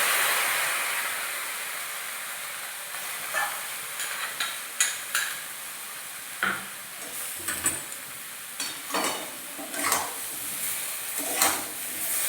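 A ground paste of ginger, mustard, melon seeds and poppy seeds is stirred in a sizzling frying pan, with irregular scraping strokes of the spoon rising over a steady hiss.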